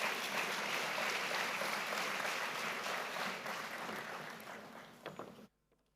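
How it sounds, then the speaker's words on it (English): An audience applauds a student poet at a university's 10-year celebration, a broad even wash of many hands clapping that tapers near the end before stopping abruptly. "We can give him another round of applause."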